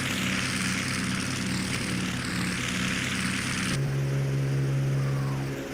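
A B-25 Mitchell warbird climbs out after takeoff, its twin propeller engines producing a loud, continuous droning roar with a steady pitched hum underneath. Midway through, the engine note shifts to a clear sustained tone.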